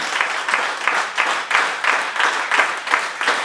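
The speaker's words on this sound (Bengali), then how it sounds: "স্যারের জন্য সর্বোচ্চ করতালি করছি।" Audience at a business event gives a round of applause, a steady wash of many hands clapping with rhythmic swells, moderately close and without talk.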